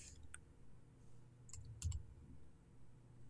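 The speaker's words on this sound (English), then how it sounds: "if I control click on the menu up here" A few soft, sharp computer mouse clicks while someone works in the Cinema 4D interface, sparse and close over faint room hum, with one slightly heavier click near the middle.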